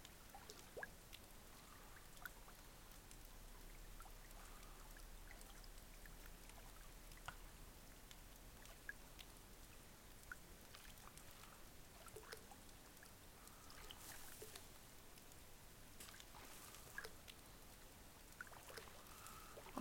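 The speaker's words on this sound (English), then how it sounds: "Oh, I get rain as well." Soft, quiet patter of rain in the game Koi Farm, with scattered drips and a faint watery wash, steady throughout and without any talking.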